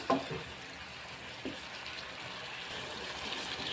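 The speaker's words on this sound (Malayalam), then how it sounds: "നന്നായിട്ട് തിളച്ച് വരുന്നുണ്ട്." Thick egg gravy bubbles in a pan with a soft, continuous low simmer and a few faint clinks or stirring knocks near the start.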